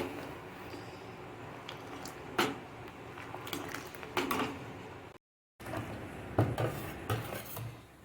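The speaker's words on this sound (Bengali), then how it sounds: "এবার ভালোভাবে এভাবে নেড়ে চেড়ে ঠান্ডা করে নেব" Warm milk being stirred in a pot to cool it for homemade yogurt, with scattered clinks and scrapes of a utensil against the metal and a soft background hiss.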